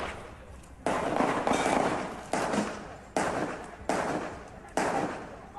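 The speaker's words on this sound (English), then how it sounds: "It sounds like gunshots." A series of about five or six sharp gunshots, each a sudden crack with a decaying tail, goes off at irregular intervals of roughly a second, somewhat distant and without talk.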